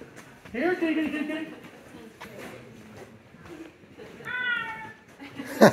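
Two clear cat meows inside Mammoth Cave, Kentucky, one early and one later, fairly close, with a soft voice speaking quietly between them.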